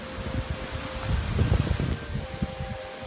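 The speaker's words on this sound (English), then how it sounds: "It's very windy today," Wind buffets the microphone outdoors near the water and a ferry in Galway, Ireland, in low rumbling gusts, rising in the middle then easing, with a faint steady tone underneath.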